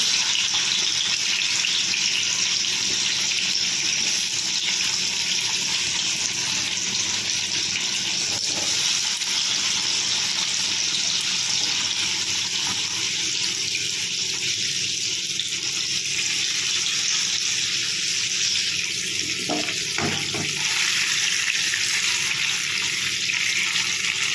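Ingredients for paneer masala frying in a hot kadai, a loud, steady sizzle that hisses without a break from start to finish, heard close up and alone.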